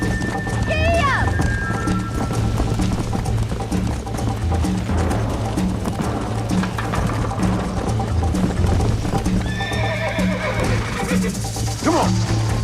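Galloping horse hooves in the Red Dead Redemption video game, a steady loud clip-clop rhythm with occasional whinnies and neighs, under constant game music and ambience.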